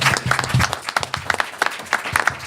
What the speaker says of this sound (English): if we can give a round of applause for our panelists.